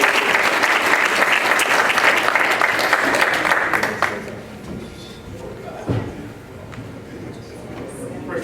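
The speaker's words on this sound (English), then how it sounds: "Give yourself a round of applause." A crowd claps loudly for about four seconds, then the clapping stops abruptly, leaving a quiet room with a single dull thud.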